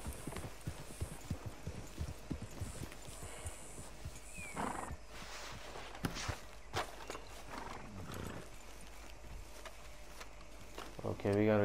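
Horses in Red Dead Redemption 2 clop their hooves in irregular bursts, with a neigh and scattered game noises, under intermittent talk, ending in a louder rumble.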